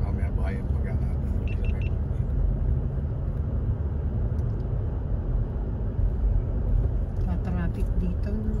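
Afternoon road traffic on a busy route, with a steady low rumble of car engines passing nearby inside a vehicle, and people talking over it throughout.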